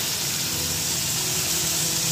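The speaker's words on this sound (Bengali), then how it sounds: "ইলিশ মাছের মাথা ভাজা বসে গেল বন্ধুরা" Hilsa fish head frying in a pan gives a steady, close, even hiss that holds unbroken throughout with no voices.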